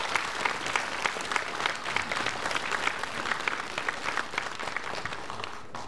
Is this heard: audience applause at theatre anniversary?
yes